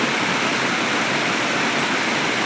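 Heavy rain pours down in a dense, loud, unbroken roar of water, close by and filling a bucket, with no voices.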